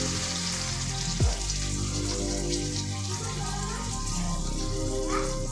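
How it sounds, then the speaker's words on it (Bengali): Water poured into a hot pan of kochur loti (taro stolons) hisses and sizzles steadily and close by, a continuous dense frying crackle with no talking. "এবার আমি জল ঢেলে দেবো।"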